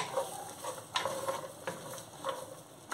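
Julienned carrots and chiles stir-frying for shrimp chop suey give a steady close sizzle, broken by several sharp scraping stirs, with no voices.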